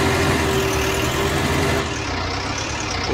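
A tractor engine idles in Farming Simulator 2019, a steady low diesel rumble that stays constant and close throughout.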